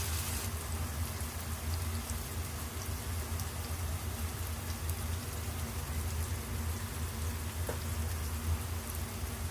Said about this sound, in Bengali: খুব ভালো করে ভেজে নিব একেবারে ব্রাউন কালার করে